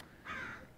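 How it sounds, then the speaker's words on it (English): A crow caws once from a tree, a single harsh call of moderate loudness lasting under half a second, heard alone against quiet background air. "There's actually a crow up in this tree right now making all kinds of noise."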